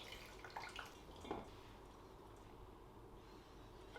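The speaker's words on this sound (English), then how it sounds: "we're just gonna squeeze out the excess marinade and save it" Excess marinade drips and trickles as lion's mane mushroom is squeezed by hand, a few faint close splashes early on, then a quiet, steady liquid hiss.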